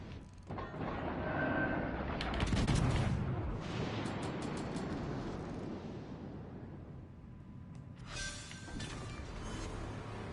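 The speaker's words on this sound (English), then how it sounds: "Oh, for God's sakes, quit shooting at me" Enemy naval guns firing in World of Warships Legends, a rolling series of heavy booms and rumbling blasts with whooshing shells, loud and sustained, then a sharper burst near the end.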